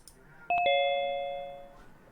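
A doorbell chimes with a quick ding-dong, struck notes ringing out clearly and decaying slowly over a quiet background, no talking.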